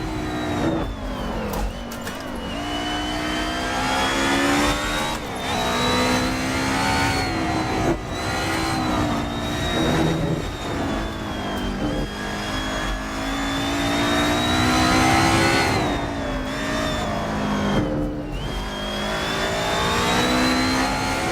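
A Mercedes-Benz 190E EVO II 90s DTM race car in a Nordschleife racing game drones loud and steady, its engine note rising and falling through gear changes as it revs under load, with no voices over it.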